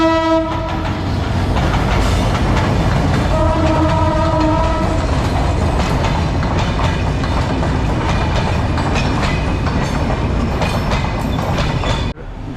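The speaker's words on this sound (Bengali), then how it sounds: "ট্রেন আসছে এবং সাথে অনেক ধুলোবালিও আসছে।" A train passes close by with a loud, continuous rumble and clatter of wagons, a horn blaring near the start, near an elevated expressway construction site in Dhaka, the roar holding steady until it cuts off abruptly.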